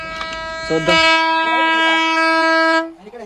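On a stopped passenger train near a tunnel, another train sounds its horn in a long, loud, steady blast that cuts off sharply, and a voice speaks briefly at the start.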